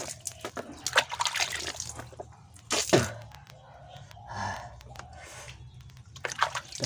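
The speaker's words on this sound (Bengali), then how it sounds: "ব্রাশ টাস মুখ ধোয়া শেষ" Running water splashes intermittently while someone brushes their teeth and washes their face on a winter morning, with close, uneven bursts of splashing, rinsing and dripping over a steady background flow.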